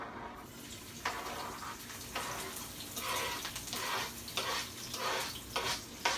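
Scallion and onion frying in hot oil in a pot, a steady close sizzle with bursts of crackle and hiss that swell and ease every second or so, no voices over it.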